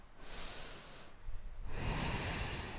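Deep breathing during a yoga lunge in a hip-opening session: two long breaths, a softer airy inhale followed by a fuller, louder exhale, close to the microphone with no talking.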